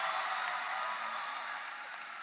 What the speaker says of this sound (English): Let's give this graduating class another big round of applause.